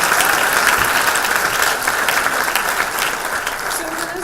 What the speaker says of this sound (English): Please have one more round of applause.